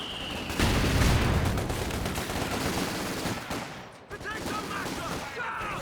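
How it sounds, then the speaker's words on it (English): Sustained bursts of suppressing machine gun fire and scattered explosions in the real-time strategy game Company of Heroes 2, a loud, dense battlefield barrage filling the whole stretch with a brief dip near the end. "The suppressing fire is about to wear off though."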